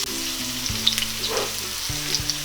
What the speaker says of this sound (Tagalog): Ngayong medyo nag-brown na ng konti yung ating bawang ay pwede na nating isunod ang ating